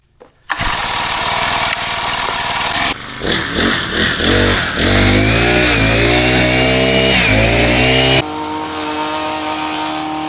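A string trimmer whines and revs in varying pitch, its engine note rising and falling through bursts of cutting, fairly loud, with an abrupt shift in background noise near the end.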